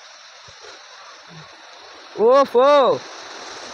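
A waterfall on Parasnath Hill in Jharkhand rushes as a steady, continuous wash, briefly covered by a voice speaking near the end.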